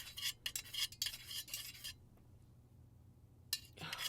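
Scent is stirred into melted candle wax at 143 degrees, a utensil scraping and clinking against the container in quick close bursts for about two seconds, then a quiet pause before the stirring resumes.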